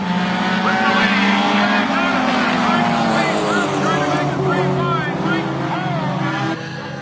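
Race cars on a racetrack roar off at the start of a feature race, a dense loud blend of engines and sweeping pass-bys, with a commentator talking over the noise.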